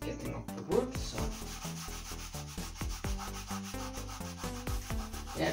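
Old, weathered teak wood scrubbed with soap, a rhythmic series of close, rasping rubbing strokes repeating steadily, loud and alone without any talking.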